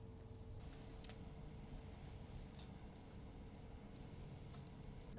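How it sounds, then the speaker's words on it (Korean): A groundwater level sensor lowered down a monitoring well beeps as it becomes submerged, a single thin high electronic tone lasting under a second over a quiet low hum, with faint clicks before it. "이렇게 삐 소리가 날 때 저 센서가 이제 수위에 이제 잠겼다는 소리거든요"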